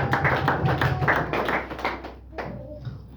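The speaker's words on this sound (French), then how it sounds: "Can we clap for God?" Church congregation clapping for God during a sermon, a quick run of close claps that thins out after a couple of seconds.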